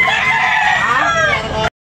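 A rooster at a busy chicken market in Tabunok crows loudly and close, one long strained call lasting over a second before cutting off abruptly.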